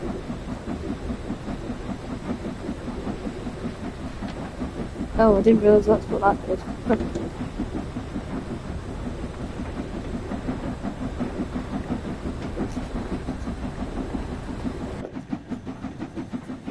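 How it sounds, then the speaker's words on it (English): A steam-hauled train in Train Sim World 6, driven around Fife at about 15 mph, gives a steady rumbling run with rhythmic chuffing under a voice, and a brief louder burst of hissing and clanking in the middle. "It's nice to be in a steam haulage train."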